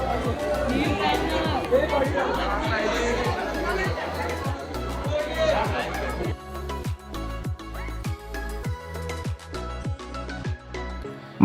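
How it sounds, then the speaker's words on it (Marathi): Devotees crowd the Mahad Ganpati temple, one of the Ashtavinayak shrines, filling the air with dense indoor chatter while a steady rhythmic beat pulses underneath. The babble is loud at first, then thins out after about six seconds. "मंदिरात भाविकांची गर्दी खूप आहे।"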